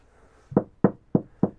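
Four sharp, hollow knocks on a thin fiberglass shell on a boat, evenly spaced in quick succession, close and fairly loud with a quiet pause before the first.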